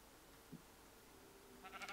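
A Minecraft sheep gives a brief, faint bleat near the end, heard over quiet game ambience with a soft click earlier.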